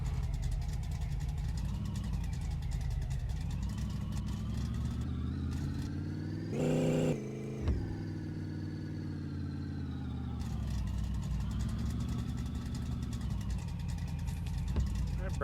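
A Chevy-powered Mopar car runs steadily with a low engine rumble, idling and revving briefly, then settling back. People talk over the engine.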